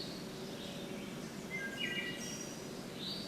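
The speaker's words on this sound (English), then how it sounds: "Maybe the sound of some birds." Faint bird chirps and short tweets drift over a steady outdoor hiss, with a couple of brief high calls near the middle.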